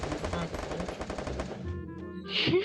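Rapid bursts of automatic gunfire in Free Fire rattle steadily, then stop, leaving a brief quieter stretch with a short sharp sound at the end.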